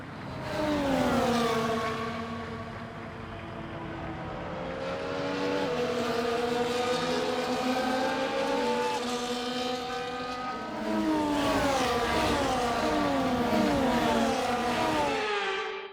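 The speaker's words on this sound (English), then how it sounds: "Here we go then, the formation lap is underway ahead of today's sprint." Several Formula 1 engines in the F1 24 video game drone and whine together at steady mid revs on a formation lap in Miami, rising and falling in pitch as cars pass, continuous and fairly close with no talk.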